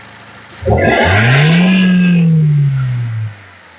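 A 1.2-litre car engine at a used car dealer revs up sharply, holds a loud roaring pitch for a couple of seconds, then drops back, close by.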